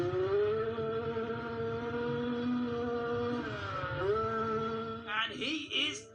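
A KTM motocross bike engine held at full throttle during a race, a loud sustained buzzing whine that holds steady, dips briefly and then climbs again with rough bursts at the end.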